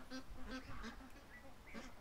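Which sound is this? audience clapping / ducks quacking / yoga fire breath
ducks quacking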